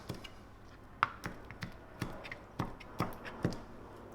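A knife slices anchovies on a cutting board with a series of crisp, evenly spaced taps, roughly two per second, close and fairly quiet with no talking.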